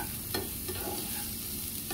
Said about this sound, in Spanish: Así lo voy a sofreír un ratito para que todo esté a tiempo.